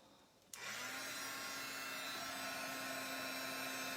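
A heat tool starts abruptly with a click and whirs into a steady, loud airy roar as it dries a mixed media Christmas card. The whine holds constant to the end, close by, with no talking.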